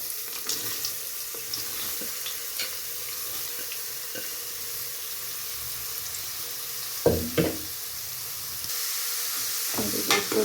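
Beetroot frying in a pan with onion and curry leaves, stirred now and then: a quiet steady sizzle with a few sharp scraping and clinking stirs near the end.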